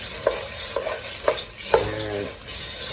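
Fideo noodles toasting with onions and jalapenos in a pan, a constant sizzle with four distinct scraping stirs spaced about half a second apart, close and without speech.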